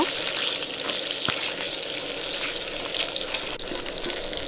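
Eggs fry in oil with a little red chili powder while a spatula stirs them for an egg curry, giving a steady close sizzle with occasional faint knocks and no talking.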